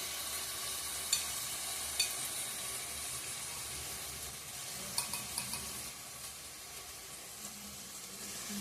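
Ghee sizzles faintly in a pan of vegetarian banana flower curry, a steady soft hiss broken by a few light clicks and scrapes of stirring, with no voices.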